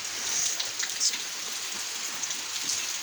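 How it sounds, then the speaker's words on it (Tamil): Heavy rain pours steadily outdoors in a constant dense hiss with brighter drops spattering on nearby surfaces, with no voices. "அப்படி மழை பெய்யுது பாருங்க."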